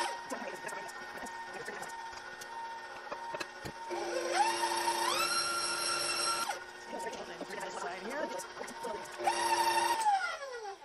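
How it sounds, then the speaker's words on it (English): An electric mixer beats ginger cookie dough made with molasses as dry ingredients are gradually added, its motor whirring in two loud close bursts over quieter clinking and a faint voice. "So we're going to start mixing this and just gradually adding in those dry ingredients."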